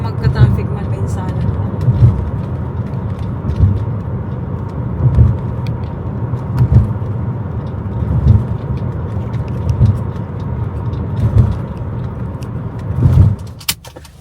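Light early-morning road traffic in Brisbane City, heard from inside a car as a steady engine and road hum with periodic bumps and swells, while a person talks throughout.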